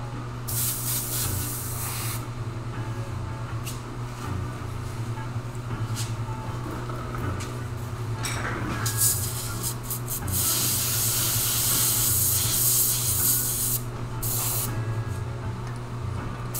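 An airbrush sprays light coats of black paint onto a rattlesnake model, giving a steady hiss with rubbing noises throughout, close and fairly loud.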